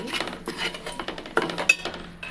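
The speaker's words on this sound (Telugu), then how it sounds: "మొత్తం గరిటతో ఒకసారి బాగా ఇలా కలుపుకోవాలి" Ladle stirring spice powders into curry in a metal pot, with quick clinking scrapes and clatters against the pot sides in an irregular rhythm, close and fairly loud.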